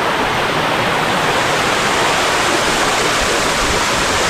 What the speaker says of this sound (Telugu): చూసారుగా అద్భుతమైన కటిక వాటర్ ఫాల్